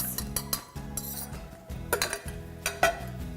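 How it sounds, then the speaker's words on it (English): A whisk clatters against a metal or glass bowl while wet ingredients for jalapeno bacon waffles are beaten together, giving a quick, steady run of close clinks and scrapes with no talking. "we're gonna whisk all of this together"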